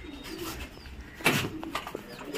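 Indian pigeons coo softly in a loft, with low murmuring calls, a brief flutter or scrape partway through and light background chirps, moderately near and without talk.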